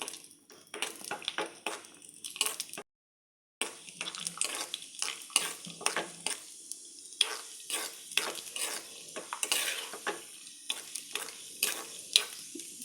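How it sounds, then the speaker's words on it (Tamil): Cashews roasting in melted ghee in a pan, heard as a close run of scraping stirs and light sizzle with clinks of a metal spoon against the pan, broken by a short silent gap, no talking. "இப்போ இதோட நம்ம முந்திரி போட்டு நல்லா செவக்க வ வறுத்து நம்ம அதில் மிக்ஸ் பண்ணிடலாம்"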